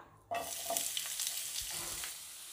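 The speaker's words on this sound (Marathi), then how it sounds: "या तेलात एक बारीक कापलेला कांदा परतून घ्यायचा आहे." Finely chopped onion hits hot oil in a pan, a sudden burst of sizzling that settles into a continuous crackling sauté with light stirring.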